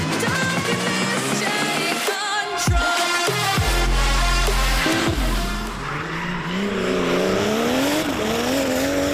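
Drift cars at a meet in Tuzla, Istanbul, scream at high revs with loud, sustained tire squeal and skidding. The shifting engine pitches overlap continuously and sound close by, with no talking.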